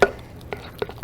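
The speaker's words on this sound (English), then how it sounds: "when you're just mashing it with a fork" Avocado chocolate pudding mashed with a fork in a bowl, giving a few soft, irregular squelches and light taps spaced across a short moment.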